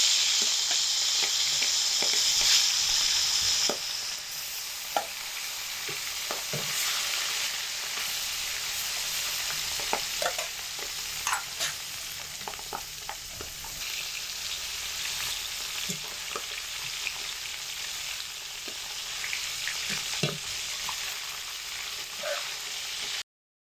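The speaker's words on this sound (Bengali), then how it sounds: "গরম তেলের মধ্যে মাছগুলো দিয়ে ভেজে নেব।" Fish pieces fry in hot oil in a pan for a brinjal fish curry, producing a loud, continuous sizzle with scattered pops and occasional stirring scrapes, steady for the full length.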